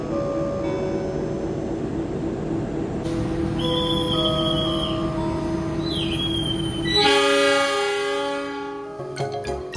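Pangrango passenger train on the Bogor to Sukabumi line rumbling steadily from inside, with drawn-out tonal squeals from wheels or brakes partway through and a louder, brighter surge of rolling noise near the end.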